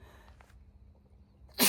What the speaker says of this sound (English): I gotta sneeze one more time.